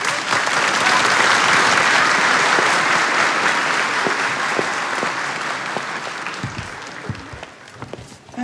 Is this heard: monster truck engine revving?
no